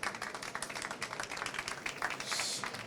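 Applause from an audience at an agricultural trade fair panel session, a steady wash of clapping lasting throughout, moderately distant with a slight swell near the end.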